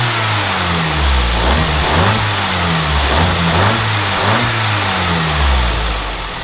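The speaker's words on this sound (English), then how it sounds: "let's give it a few revs." A warmed-up hot hatch track car engine revs repeatedly from idle, loud and close, each rising blip dropping back before the next in a steady rhythm, with no voices over it.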